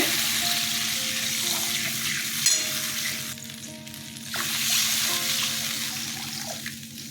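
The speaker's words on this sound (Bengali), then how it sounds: "মশলাটা কষানো হয়ে গেছে জল দিয়ে দিচ্ছি" Water pours into a pan of sizzling, well-cooked spice paste for a hilsa fish curry, giving a steady loud hiss and bubbling frying noise with a brief surge partway through; no talking.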